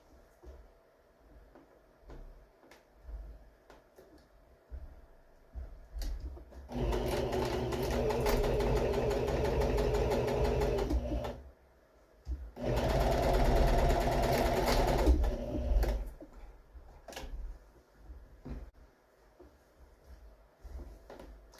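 A sewing machine stitches couch fabric in two sustained bursts of steady mechanical whirring, separated by a short pause, with quieter handling noises before and after.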